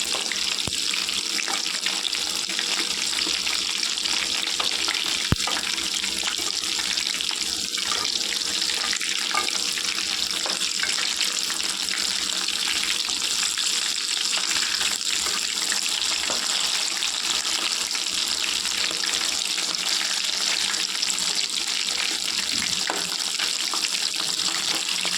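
Chicken wings frying in oil, a dense continuous hissing sizzle that holds steady and close throughout with no talking.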